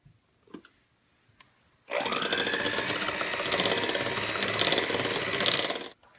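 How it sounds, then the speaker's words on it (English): Handheld electric mixer fitted with a single beater used as a dough hook kneads bread dough, a loud steady whirring motor starting abruptly after a few faint knocks and running about four seconds before stopping. "We're using one of the beaters because then the dough, it's acting as a dough hook rather than beating it together."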